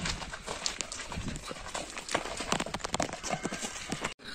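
Stallion hooves clip-clopping in a steady run of loud, close knocks with a dense scuffle of movement, ending in a brief sudden gap just before the end.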